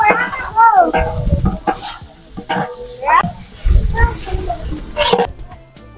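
Chopped onion and garlic fry in hot oil for a Bangla village khichuri, giving a loud sizzling hiss with scraping and stirring clatter, while people talk nearby.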